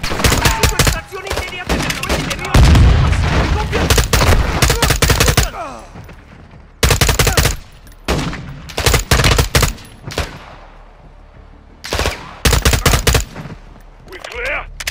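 Loud, close gunfire in a Modern Warfare II campaign battle. Rapid automatic bursts and single shots crack almost without pause for the whole stretch, with brief gaps between volleys.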